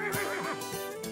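A cartoon horse lets out a loud, close whinny lasting about a second, with its wavering call filling the clip alone.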